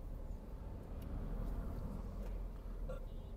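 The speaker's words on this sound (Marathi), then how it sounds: "आणि पेणला लागले ट्रॅफिक" Road traffic at Pen on a busy holiday route toward Mumbai, heard from inside a car stuck in the jam: a steady low rumble of engines and tyres, continuous and fairly quiet, without voices.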